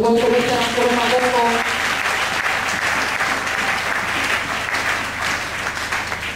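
A church congregation bursts into loud sustained applause and cheering, a thick wash of clapping that runs the whole length, with a sung or spoken voice fading out at the start.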